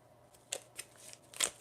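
Quiet papery riffles and soft flicks as a deck of tarot cards is shuffled during a reading, a few brief irregular bursts close by with no talking.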